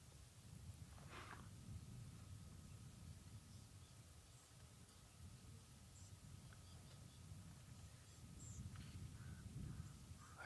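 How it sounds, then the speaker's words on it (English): Crows caw near an animal carcass in open bush, several brief calls at moderate distance over steady wind and ambient noise. "But you hear crows, so crows enjoy these carcasses as well."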